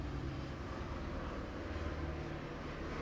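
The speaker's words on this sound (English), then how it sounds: "when this plane flies away or helicopter" A steady, faint engine drone from a plane or helicopter overhead, continuous and distant, with no talk.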